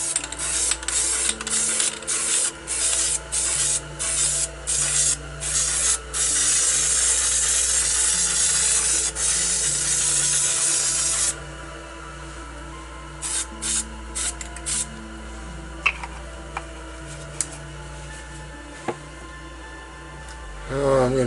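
Aerosol spray paint hissing onto a northern-lights landscape painting while mountain bottoms are shaded in black, in repeated short bursts, then a long continuous spray, then sparser quieter puffs, close and loud.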